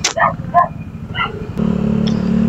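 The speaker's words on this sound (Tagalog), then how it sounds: "Daming aso." Several dogs bark on a road in a few quick yelps, then a scooter engine, a Honda ADV160, rises in a steady drone while someone speaks.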